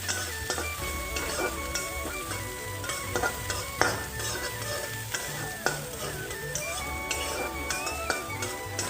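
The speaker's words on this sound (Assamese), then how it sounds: "এতিয়া মই কাটি থোৱা পিঁয়াজখিনি কেৰাহীত দি দিলোঁ। তলত ভাজি আছোঁ।" Chopped onions fry in a kadai, a busy close sizzle mixed with frequent stirring scrapes and clinks of a utensil against the pan.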